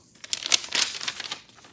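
A paper vinyl record sleeve crinkles and rustles up close in a short burst of sharp, crackling handling sounds.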